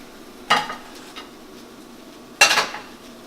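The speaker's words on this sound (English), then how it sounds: "Mix this up." A spoon stirs ground turkey taco filling in a pan, with two sharp close metallic clanks against the cookware and softer scraping and stirring between them over a low background hiss.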